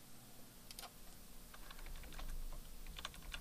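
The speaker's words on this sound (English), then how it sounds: "hit the Tab key on my keyboard" Quiet, scattered computer keyboard clicks, a few isolated Tab key presses over a soft background hum, close but faint.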